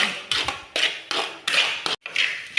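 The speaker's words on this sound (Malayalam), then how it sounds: "നന്നായി ഇളക്കി കുത്തി പൊരിക്കുക" Repeated scraping taps of a spatula against a pan as egg is stirred and fried, in short bursts with brief pauses, close up and moderately loud, with no voices.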